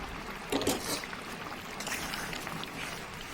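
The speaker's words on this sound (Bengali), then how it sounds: "সেই দুধটা আমি দিয়ে দিলাম এর মধ্যে।" Milk poured into a simmering paneer curry in a pot, a short soft liquid splash and trickle that fades into a low bubbling hiss.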